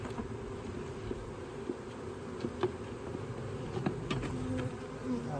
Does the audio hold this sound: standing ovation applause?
no